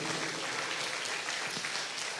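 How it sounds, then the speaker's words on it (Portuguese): A church congregation applauds together in a sustained, dense wash of clapping that fills the room at an even, steady level for the whole stretch, with no voice rising above it. "Vamos aplaudir o nosso Deus."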